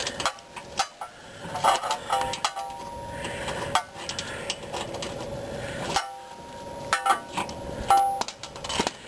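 On a classic Chevy from 1957 to 1972, a wrench works at a stubborn front shock absorber bolt, making repeated ratcheting clicks and metallic knocks in irregular bursts, close up.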